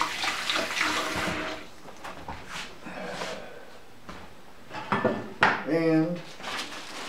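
Dishes washed up under a running kitchen tap, with a steady water hiss, occasional clinks of crockery and cutlery, and a short gurgle near the end, nearby and moderately loud.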